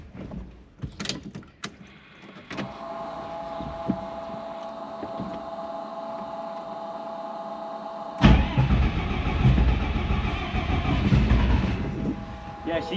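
An engine, just bled until fuel reaches its injector lines, cranks and tries to start: a steady mechanical drone gives way to a louder, rough, churning rumble after a sharp onset, with some clattering handling noises at the start.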